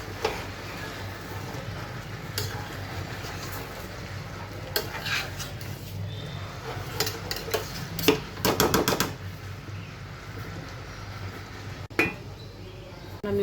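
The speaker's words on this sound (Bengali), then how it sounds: "জাস্ট একটু নেড়ে চেড়ে দেবো।" Food in a pan is stirred after the lid comes off, giving soft scraping and a few clinks over a constant low sizzle and hum, with a quick burst of rattling near the middle and no talk.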